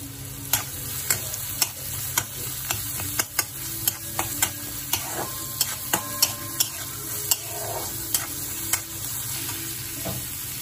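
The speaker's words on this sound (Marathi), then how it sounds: "आता गॅसवर मी ना थोडेसे तेल टाकून हे तेल गरम झाल्यावर बारीक चिरलेला कांदा टाकून चांगले परतून घ्यायचे आहे।" Finely chopped onion sautés in hot oil on a gas stove for smoky mashed brinjal bharit, a steady sizzle broken by regular sharp clicks of a spoon stirring against the pan, close and alone.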